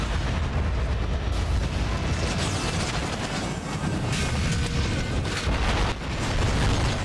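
Shotgun fire and battle noise from the video game Vanquish on PS3 form a dense, continuous roar of booms and rumbling effects, loud and unbroken for the whole stretch with no clear separate shots.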